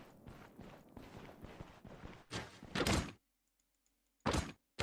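A dungeon door opening in the video game Stoneshard: scraping, creaking bursts followed by heavy thudding thunks, then silence and one more short clunk at the end.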